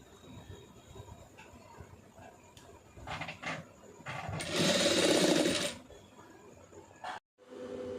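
Sewing machine stitching a neck design on a garment: a rapid whirring run of needle clatter that builds for a couple of seconds, then stops abruptly, close and loud over a quiet room.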